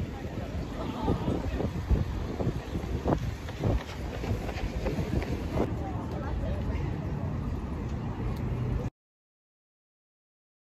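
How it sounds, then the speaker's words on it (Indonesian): A boat passes behind the listener on a Swiss lake in summer, its motor and wash a low steady rumble mixed with heavy wind buffeting the microphone and faint tourist chatter before the sound cuts off. "jadi ini ada kapal di belakang ini atau boat ini"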